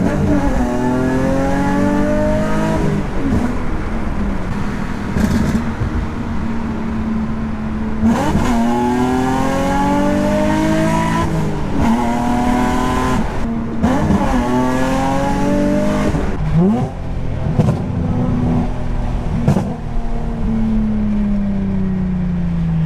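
A Nissan G35 Coupe with an aluminum single-piece driveshaft on a test drive, heard from inside as the engine repeatedly revs up through the gears with brief drops at each shift, loud and continuous throughout.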